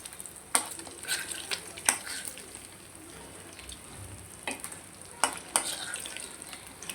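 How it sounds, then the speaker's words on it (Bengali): Spiced pangas fish fries in a pan, giving a quiet, steady sizzle broken by sharp clicks and scrapes from a spatula stirring the pieces. The scrapes come in irregular bursts over the hiss. "এটাও ভেজে তারপর আমি মাছটা ভুনা করব।"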